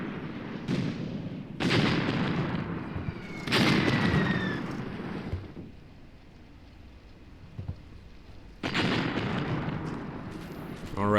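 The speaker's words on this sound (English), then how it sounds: "So you can see we're already dropping some mortars over there in that location." Mortar and artillery fire in the WWII tactics game Graviteam Tactics Mius Front: several heavy booming blasts in irregular bursts with rumbling tails, some sharper cracks and whistling shells between them, loud against a battlefield background.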